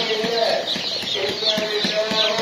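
Chickens cluck and murmur in a steady, busy chorus at a poultry market, several birds close by with short repeated calls over a dense background of flock noise.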